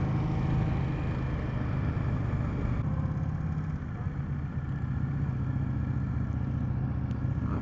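A 2020 Indian Scout Bobber with a 2-in-1 exhaust, ridden at a dealer demo day, gives a steady, close engine rumble that holds evenly throughout with no talking.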